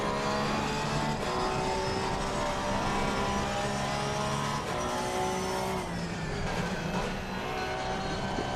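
A race car in a sim racing video game roars steadily with a constant engine drone, gear and pitch shifts rising and falling, loud and close, with no talking.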